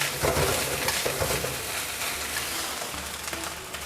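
Cooked rice being stir-fried and toasted in a pan for mala Chinese-sausage fried rice, a continuous dry sizzle with rhythmic scraping and stirring strokes, close and fairly loud, without talk.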